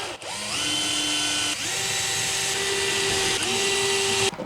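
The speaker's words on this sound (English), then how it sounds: "I'm just going to pre-drill into the batons" Power drill pre-drilling into wooden battens during a Citroen Relay camper van conversion, running in three or four close bursts with rising motor whine, loud and near, no voices.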